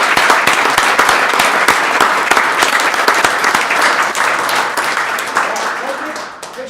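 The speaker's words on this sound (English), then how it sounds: "So I think she deserves a nice round of applause." Loud, dense applause from a crowd honoring a volunteer award winner at a parks and recreation board meeting, steady for several seconds and tapering slightly at the end, with voices faintly mixed in.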